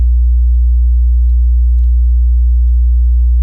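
Steady sub-bass sine tone recorded directly from a software synthesizer, one continuous loud, unbroken low drone lasting the whole stretch with no other sounds or talking.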